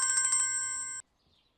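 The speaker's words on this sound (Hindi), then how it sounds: "फोन बज रहा है तुम्हारा" A mobile phone ringtone trills in rapid pulsing tones for about a second, then cuts off abruptly into near silence.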